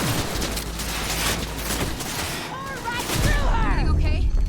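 Gunfire in the video game Cyberpunk 2077, a dense, loud fusillade of game shots over a constant bed of explosions and combat noise, with players talking over it.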